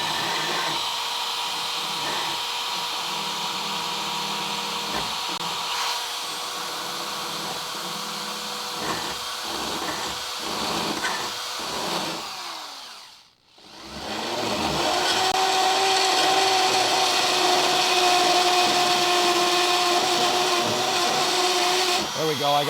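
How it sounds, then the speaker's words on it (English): A rotary burr grinds rust from the body of a Crew Cab Charger under restoration, a steady, loud, high-pitched whine that runs almost continuously with one short pause midway, and voices faintly underneath. "just get at it more with the burr and just be patient"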